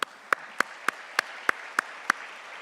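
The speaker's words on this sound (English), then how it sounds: "Yes, applause." Sparse, evenly spaced hand claps, about eight sharp claps in under three seconds, quiet and steady over a faint background hush, as an audience applauds after a women executives leadership panel in Ottawa.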